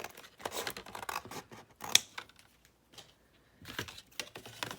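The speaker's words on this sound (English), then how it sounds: "And then I'm cutting this part off." Scissors snipping through material for a junk journal cover made from trash, a series of close, crisp cuts in uneven bursts with quiet pauses between.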